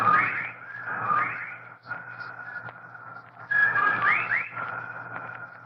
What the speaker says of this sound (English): Listen, they whistle in time with his breathing now.